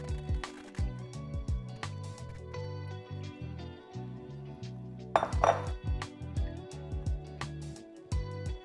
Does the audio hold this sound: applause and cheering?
no